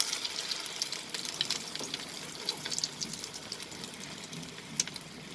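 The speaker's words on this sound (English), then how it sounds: "Now I'm going to fry this egg properly." An egg omelette frying in a pan, a steady close sizzle with crackles and small pops throughout, no voice over it.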